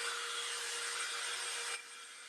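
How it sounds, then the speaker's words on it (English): A hair dryer or heat gun blows steadily on painted pieces of a Loads of Love wood craft kit, a close continuous rushing whoosh that drops in level near the end as the airflow shifts away. "Let's hit this with the dryer again"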